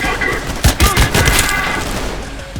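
Rapid gunfire bursts from the first-person shooter Trepang2, several loud close cracks in quick succession with a dense rattling tail, heard alone without talk.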